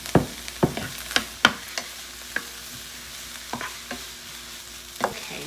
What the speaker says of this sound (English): We have a cup of cremini mushrooms here. We're gonna saute this for about 2 minutes.